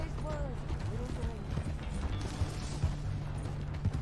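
Horse hooves clip-clopping in the Red Dead Redemption 2 video game, a steady rhythmic patter of hoofbeats under in-game character dialogue.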